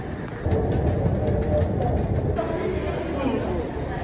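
Rumble of an MRT train carrying passengers in Malaysia: a steady rolling drone with faint rail clatter, heard from inside the carriage, with a brief shift partway through and people chattering quietly in the background.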